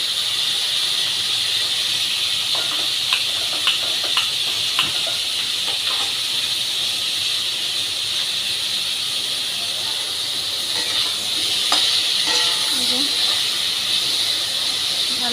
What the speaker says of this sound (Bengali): তো এখানে ফুলকপি আলুটা আমরা আরেকটু ভাজবো, একটু লাল লাল করবো।